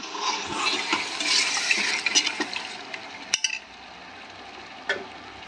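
Green chillies and greens for military-hotel-style donne biryani sizzle in a pan while a spatula scrapes and stirs in uneven strokes. The frying noise eases after a sharp knock, leaving faint scattered clicks.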